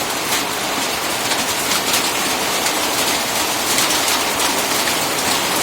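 Heavy rain after a hailstorm pours steadily in a dense, loud hiss with no breaks and no voices.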